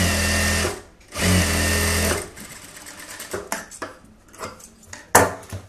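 An electric sewing machine stitching through folded blouse fabric runs in two loud, steady bursts, followed by softer clicks and handling noises.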